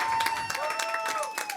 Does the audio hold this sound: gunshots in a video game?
no